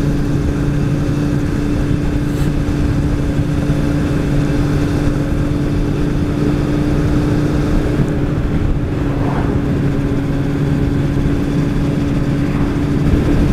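Motorcycle engine droning steadily and loudly while riding on country roads near Mt Mee, a continuous hum mixed with wind noise, with no speech.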